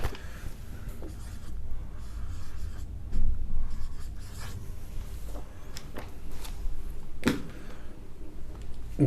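A pen scratches across paper in short strokes and pauses, steady and close, while a chemistry numerical problem is written out in a quiet room.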